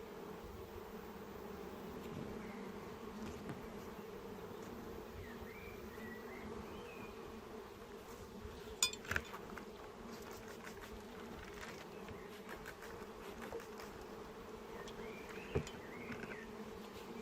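A steady, dense buzzing of many honeybees around a hive hums close by without pause, with a few brief taps and rustles breaking through near the middle.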